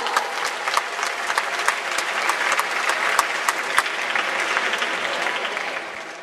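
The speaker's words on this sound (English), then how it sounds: "let's have a huge round of applause for Darth Vader from Star Wars" A crowd at a film and comic convention cosplay event claps enthusiastically in sustained applause, dense and steady with sharp individual claps standing out, fading slightly at the end.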